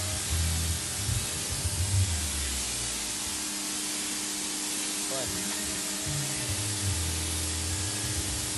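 Water sprays steadily from a garden hose in a continuous broadband hiss while a dog plays in the stream, with brief talk and low rumbles underneath.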